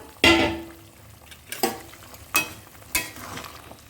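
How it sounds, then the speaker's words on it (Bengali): Pieces of rohu fish drop one by one into a hot pan, each setting off a sharp burst of sizzling that fades before the next, four bursts in all, close and loud. "এবার আমি মাছগুলো দিয়ে দেব আজকে রুই মাছ দিয়ে রান্না করছি মাছগুলো দিয়ে দিলাম"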